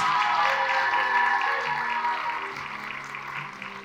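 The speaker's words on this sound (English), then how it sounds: "one last big round of applause for all of our Miss contestants" Applause for contestants at a Miss Leesburg scholarship pageant, a moderate crowd clapping that gradually fades over a few seconds beneath music.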